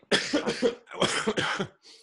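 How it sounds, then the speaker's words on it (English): Two close, harsh coughing fits, each a quick run of several hacking coughs with a short pause between them. "this cough"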